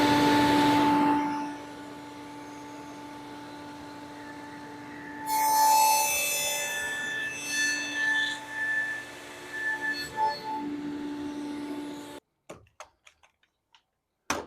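A machine saw cuts the seat joint into the back legs of a wooden rocking chair, giving a steady droning whine with a harsher grinding stretch as the blade works through the wood, then stopping and leaving a few sharp clicks.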